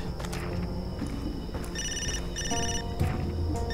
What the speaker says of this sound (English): Right after this phone call.